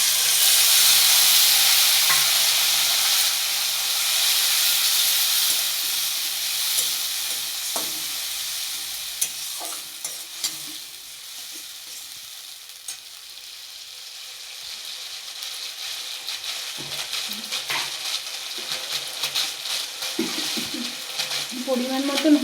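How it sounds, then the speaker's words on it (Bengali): A masala paste of ginger, garlic, onion, dried chilli, cumin and tomato fries in a pan, sizzling loudly at first, then easing into a softer crackle broken by the clink and scrape of stirring. "পরিমাণ মতন হলুদ গুঁড়ো, দিয়ে মশলাটা কষানো হোক।"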